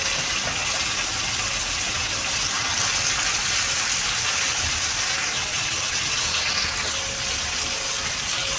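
Water gushing steadily into a cooking pan of aubergine curry in a home kitchen, a continuous bright splashing pour lasting several seconds with no talk.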